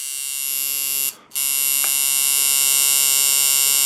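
A coil tattoo liner machine with a 33 µF capacitor, running at 6.5 volts at about 140 hertz, gives a steady loud electric buzz that cuts out briefly for a moment before resuming evenly.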